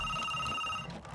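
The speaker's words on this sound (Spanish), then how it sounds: "uno de sus colegas llama por el teléfono" A telephone rings with a steady electronic trill that cuts off near the end, heard alone at moderate loudness.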